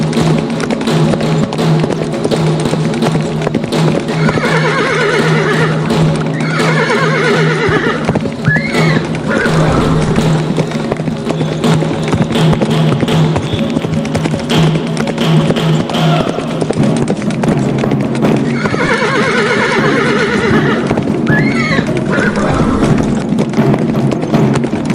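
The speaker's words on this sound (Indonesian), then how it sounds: "perayaan juga menghadirkan pacuan kuda yang berlangsung di hadapan kerumunan penonton" Horses at a race in wartime Makassar whinny repeatedly over a dense, loud, steady rumble, with rhythmic hoofbeat clatter and crowd-like noise running throughout a long stretch.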